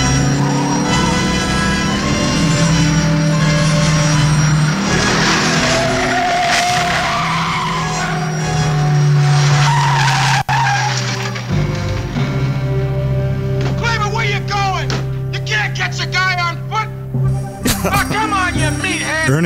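Tires skid and squeal during a movie car chase, with a loud roaring rush of engine and road noise and a sustained screech. Later, excited voices talk and yell over the fading commotion.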